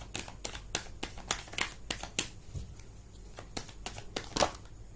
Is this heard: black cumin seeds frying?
no